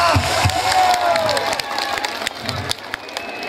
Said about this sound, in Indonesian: Jadi tepuk tangan sebahagia-bahagianya.